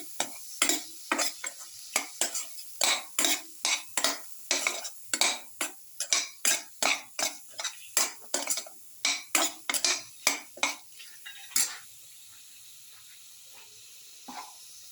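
A spoon stirs a spice mixture into a shrimp dish with garlic and tomato in a pan, about two dozen rhythmic close scrapes over a soft sizzle, ending in a quieter stretch.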